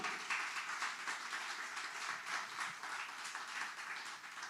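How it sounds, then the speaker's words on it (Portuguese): A church congregation applauds to glorify the Lord during a sermon, giving a steady wash of clapping that is faint and distant and keeps going throughout. "Vamos aplaudir ao Senhor e glorificá-lo?"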